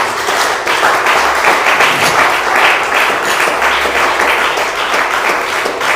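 A church congregation at a thanksgiving service applauds loudly and steadily for several seconds. The clapping is dense and close, with a few thumps and no talking.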